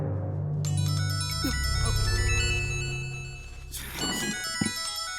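A mobile phone ringtone sounds inside a courtroom, a melodic electronic tune playing through two phrases over a low background hum and rustle, moderately loud and without speech.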